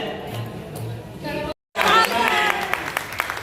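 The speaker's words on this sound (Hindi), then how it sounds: "जोरदार तालियां हो जाएंगी" Applause from a crowd at a journalists' association meeting, bursting in loudly after a brief silence and continuing as a dense, steady patter with murmuring voices beneath.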